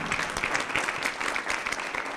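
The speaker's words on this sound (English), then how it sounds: "Again, one last applause." Audience applause at the close of a global school session on refugee and migrant health, steady dense clapping from a crowd throughout, fairly even in loudness with no talk over it.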